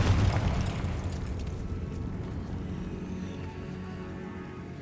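A Confringo fire spell explodes in the Hogwarts Legacy game: a loud boom at the start that decays into a long, rumbling, crackling tail lasting several seconds, with no voices.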